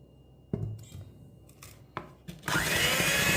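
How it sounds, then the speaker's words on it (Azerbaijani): Egg whites being whisked with sugar for meringue: scattered brief clatters at first, then from midway a loud, steady whirring whisk runs continuously to the end. "Bu zaman şeker tozunu az əlavə edib yenidən çırpırıq."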